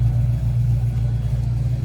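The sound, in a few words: Foxbody Ford Mustang engine running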